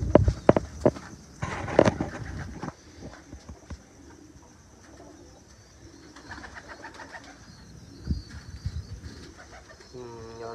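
Low, soft cooing of pigeons close by, with fluttery bursts and handling noises early on, over faint background hum.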